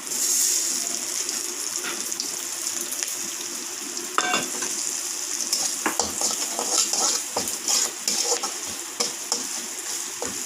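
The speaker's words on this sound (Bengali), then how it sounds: "এখানে কাঁচা লঙ্কা কুচি আর মৌরিটা তেলের মধ্যে আমি দিয়ে দিচ্ছি" Chopped green chili and fennel seeds crackle and sizzle in hot oil in a pan, making a loud, continuous hiss up close with scattered pops and stirring clatter, and no talking.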